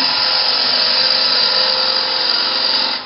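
A wood lathe spins a bowl blank while a turning tool rides the bevel, producing a loud, steady broadband whir and scraping hiss that holds constant for about three seconds before tapering slightly at the end.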